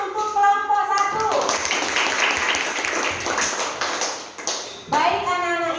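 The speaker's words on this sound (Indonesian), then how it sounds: "tepuk tangan untuk kelompok 1" A classroom of children claps for a student group, a dense burst of applause lasting several seconds, with a teacher's voice heard just before and after.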